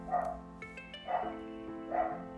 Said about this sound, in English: sorry about the dog barking, if you can hear it.